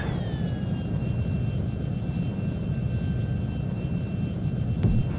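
An F-22 Raptor jet in the flight game Total Air War, with a steady loud engine roar and whining tones that hold throughout and dip slightly near the end, with no talking.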